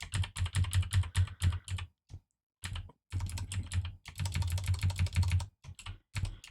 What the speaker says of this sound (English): if you just hold Shift and hit the arrow keys